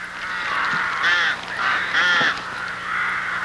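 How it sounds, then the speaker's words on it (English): Rooks at a busy rookery give raucous, harsh cries, several overlapping caws rising and falling in bursts that keep the air full of loud, close calling. "the air is filled with raucous cries as hordes of nest-raiding rooks steal each"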